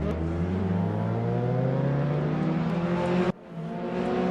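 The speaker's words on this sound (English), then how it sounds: "I just kept hearing engines coming from off camera" A race car engine at the Nordschleife, loud and close, its pitch climbing steadily through the gears before abruptly cutting off and falling back to a lower drone.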